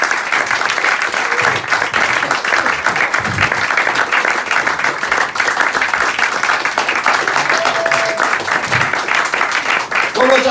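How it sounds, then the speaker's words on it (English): A comedy club audience applauds steadily after a stand-up headliner set, loud sustained clapping throughout with a few voices calling out underneath. "Please give an applause"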